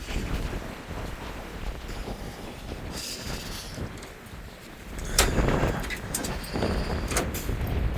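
Strong wind buffets the microphone at a roadside stop beside a car, a loud continuous rumbling roar with gusty swells and occasional rattling bumps, no voices heard.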